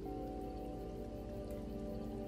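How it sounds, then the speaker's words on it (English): Recorded rain, a steady dense patter of raindrops hitting a surface, even and continuous under a faint humming tone, with no voices. "And then you put on some rain sounds"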